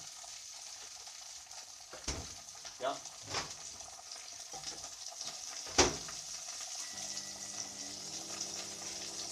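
Sausage fries in a pan with a soft, fairly quiet sizzle, broken by a few sharp knocks and scrapes of cookware. A voice briefly murmurs over it.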